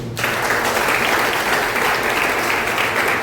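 Audience applause during a Hindi motivational speech, dense clapping that starts abruptly after a brief pause and continues evenly and loudly to the end.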